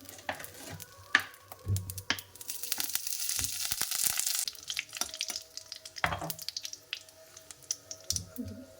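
Spices tempering in hot oil hiss and crackle in a quiet, close burst that swells and fades, with scattered clinks and taps of utensils around it.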